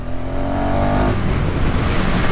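An Enduro 390 motorcycle engine revs up loud and close, its rising drone cut by a quick-shifter gear change about halfway through before pulling on under strain.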